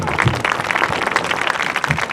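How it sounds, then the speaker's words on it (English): A crowd at a varsity football game applauds seniors and their parents, steady dense clapping filling the air, loud and sustained throughout without a break. "One last round of applause for our varsity football team seniors and their parents."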